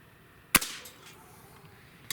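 A Diana RWS 75 match air rifle fires a single pellet, giving one sharp, close crack with a short tail, then a faint click near the end, otherwise quiet.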